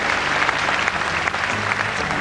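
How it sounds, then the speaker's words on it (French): Dense, steady applause from a big audience at the Miss France 1991 pageant for Miss Midi-Pyrénées, loud and continuous over a low musical hum. "Avec vos applaudissements pour dire Miss Midi-Pyrénées."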